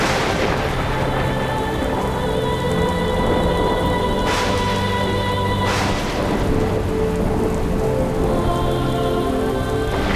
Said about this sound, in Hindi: ऐसी भी वर्षा नहीं हो रही कि लोग आ ना सके।